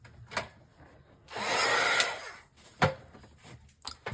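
A hair dryer blows over a craft journal page in a home setting, roaring in one steady burst of about a second, flanked by a few close clicks and handling knocks before and after.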